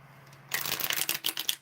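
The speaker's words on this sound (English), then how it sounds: "One more shuffle for Kenyara." Tarot cards are shuffled close by: a second of quiet, then a brisk riffle of cards lasting about a second with rapid flicking bursts.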